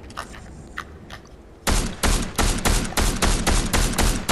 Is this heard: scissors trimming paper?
no